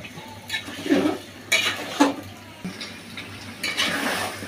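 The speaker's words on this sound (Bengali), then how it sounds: "এবার এটা একটু ভালো করে মিশাই নিই" A spoon stirs beef and pointed gourd curry in a cooking pot, giving a few quiet, intermittent scrapes and clinks against the metal with soft sizzling underneath.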